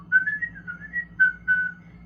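A person whistles on the exhale in a deeper tone, a few wavering sustained notes with a short break in the middle, fairly close and alone.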